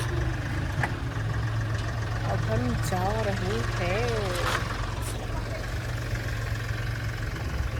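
A car engine idles and runs steadily as the car is taken out, with a tractor behind it, producing a constant low hum throughout and a voice briefly heard in the middle.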